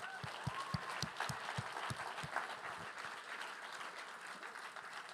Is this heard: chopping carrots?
no